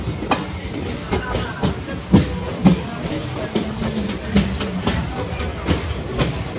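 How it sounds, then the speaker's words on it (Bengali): The Sifhung Express, running from New Bongaigaon to Barpeta Road, pulls out of Bongaigaon station onto the main line: a steady rumble with irregular clickety-clack wheel knocks and a few sharper jolts, a voice faintly present. "আমাদের ট্রেন পুরোপুরি বঙ্গাইগাঁও স্টেশন থেকে বেরিয়ে তার মেন লাইনে চলে যাচ্ছে গতির দিশে"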